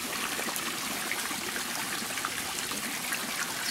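Water from a Skippy pond filter spills and trickles out around its drains in a continuous, close, hissing gurgle with no breaks and no voices.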